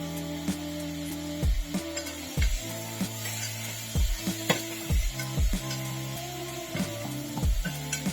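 Jackfruit seeds and peas roast in hot oil with a soft sizzle, broken by a rhythmic series of scraping strokes as a spatula stirs the pan about once a second, up close under a steady tonal hum.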